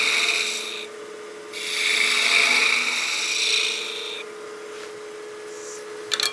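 Spindle gouge cutting a taper into wood spinning on a lathe for a bat house ornament, a close rasping scrape that swells and fades over a few passes.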